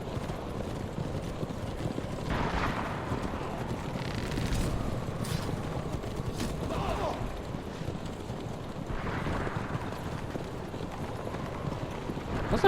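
Horses gallop in Assassin's Creed Revelations, a steady rumbling clip-clop of hooves running continuously under windy game ambience.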